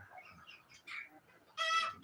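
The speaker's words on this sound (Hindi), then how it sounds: "ये जनाब मेरी पुरानी गोल्डन मुर्गी है, ये भी भुत्ती हो चुकी है।" Desi and golden breed hens cluck in a yard, a few soft, close clucks and murmurs, then a louder burst of squawking toward the end, with faint background noise.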